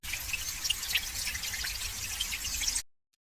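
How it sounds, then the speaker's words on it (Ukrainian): Gently trickling spring water with small bubbling drips, a soft continuous babble heard fairly faintly for a few seconds before cutting off. "Ти впізнав джерельце"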